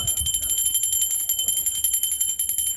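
A bell rings continuously with a steady, shrill metallic tone during a Ganesh festival homecoming in Konkan, its rapid repeated strokes staying loud and close throughout, with faint voices underneath.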